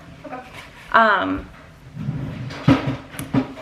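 A household drawer slides open or shut with a short wooden rumble and knock while a person speaks nearby, the scrape fairly close and brief amid the talk.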